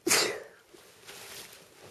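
A single sharp sneeze up close indoors, loud and abrupt, fading into quiet room tone.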